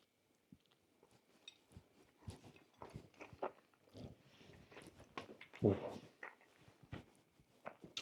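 Close biting and chewing of crunchy homemade quiche with roast tomato, sausage, basil and parmesan, a few sharp crunches and softer chewing sounds, one louder bite partway through, with murmured talk around it.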